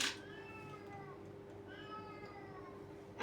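A house cat meows twice, two drawn-out, clear mews close by against a quiet background with a faint steady hum and brief noise at the edges.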